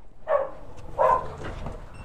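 Dogs at a house bark twice in short, sharp bursts about a second apart, fairly close and moderately loud over faint background noise.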